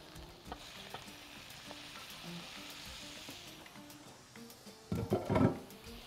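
Shrimp sizzle and fry in a pan with cumin and black pepper, a soft continuous crackle with a few light taps, then a louder burst of stirring and spitting near the end.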